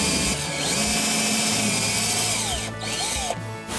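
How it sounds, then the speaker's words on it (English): A power drill bores a hole for a pin in a bighorn sheep's horn, a steady close whine with pitch bending as the bit loads, pausing briefly twice near the end. "You have to be careful when you're putting the pin in to get the hole drilled squarely and put the pin in and place it properly."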